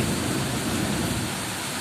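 Heavy rain pours steadily in front of a verandah during a Kalbaishakhi storm, a loud, even roar with a low thunder-like rumble beneath it.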